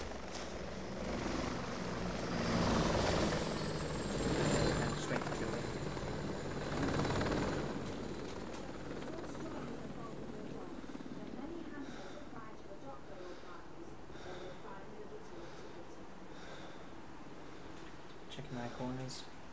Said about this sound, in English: I'm going to get a helicopter to fly over